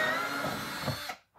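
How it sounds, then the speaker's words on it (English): A power drill bores holes through a plastic bin for a boa enclosure, a steady close whirring run of about a second that cuts off, then briefly starts again. "I'm just going to drill a few holes."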